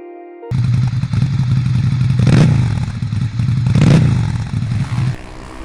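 Cartoon motorcycle ride effect: a loud, steady engine drone runs throughout, swelling into two brief whooshing surges as the bike passes, with no voices.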